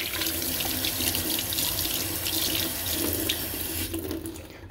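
A steady, loud rush of tap water pours into a sink as an egg is rinsed underneath, continuous and close before easing off near the end.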